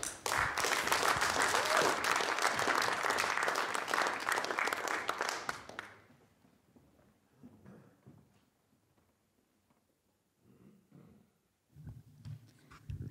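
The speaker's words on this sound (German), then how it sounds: "Applaus" Audience applause at a German poetry reading, a dense burst of clapping for about six seconds that cuts off, leaving a quiet room with faint shuffles and small noises before a voice begins.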